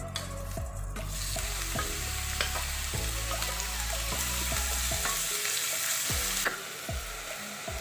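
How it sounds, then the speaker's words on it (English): Two large, thinly sliced onions sizzle and crackle in a hot pan on a stove set to medium-high, with repeated stirring scrapes and clacks heard close up over the steady frying hiss. "in the pan I'm putting in 2 large onions sliced up"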